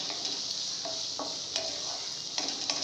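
Chopped onion fries in hot oil in a kadhai, a steady loud sizzle with a few soft stirring clicks and scrapes, no voices.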